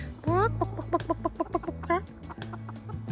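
A chicken clucks in a quick series of short, close calls, with a louder squawk near the middle and a low hum underneath.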